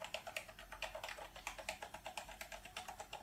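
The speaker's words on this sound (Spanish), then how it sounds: "Estoy tocando todos los botones del teclado" Rapid, steady clatter of keys on a computer keyboard as every button gets pressed in turn while a home-built arcade machine's controls are tested, close and dry with no talking.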